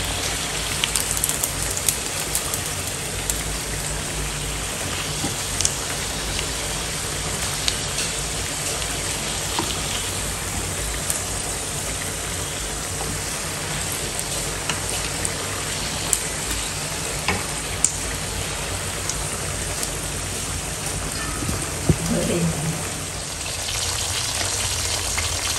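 Pieces of garlic-marinated snakehead fish frying in hot oil, a dense, continuous close sizzle and crackle like steady rain, with occasional louder pops and no talk.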